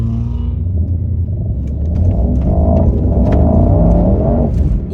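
Mercedes-AMG GT63 on a test drive, its engine giving a loud, steady low rumble from inside the cabin that builds slightly as the car pulls along, with faint clicks and no talk.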